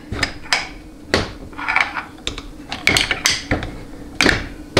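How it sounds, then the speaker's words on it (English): A big flat-blade screwdriver pries apart the drums of a GM 200-4R automatic transmission on the bench. It makes a series of sharp metallic clicks and knocks at irregular intervals, close and fairly loud, with no talking. "So take a big flat blade screwdriver, just gently pry up."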